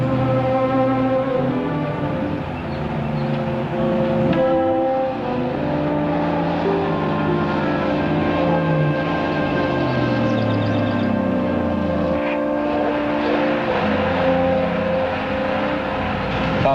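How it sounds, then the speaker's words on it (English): A truck drives nearby with a continuous heavy engine rumble and shifting drone that changes pitch as it moves, loud and steady with no talking. "Sounds like a truck."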